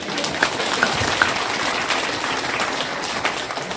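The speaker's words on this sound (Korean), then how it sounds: "그래도 박수 한번 쳐주세요." An audience at a political lecture in Gwangmyeong claps together, a steady mid-distance patter of many hands lasting a few seconds with no speech over it.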